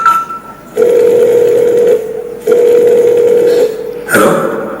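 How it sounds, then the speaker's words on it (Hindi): A telephone call being placed, with a steady dial or ringback tone sounding in two long stretches, a brief tone at the start and a short burst of noise at the end, with no voices. "मैं अभी अपने बेटे को फोन करती हूँ"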